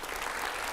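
Steady applause from a crowd, a dense patter of clapping that fills the short moment without any voices.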